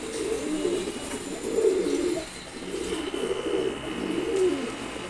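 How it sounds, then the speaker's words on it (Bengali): A pair of racer pigeons coo in soft, repeated low phrases, steady and close, with no talking over them. "ওর উপরেই আছে একজোড়া রেসার কবুতর, দেখেন।"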